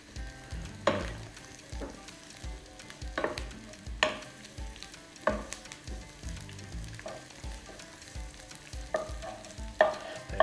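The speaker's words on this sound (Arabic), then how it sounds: "وبالمعلقة الخشب نلف البصل كده لحد ما يفرفر" Onions fry in a pan while a wooden spoon stirs them, giving a steady crackling sizzle with repeated soft knocks and scrapes at a loose, irregular rhythm, fairly quiet and close.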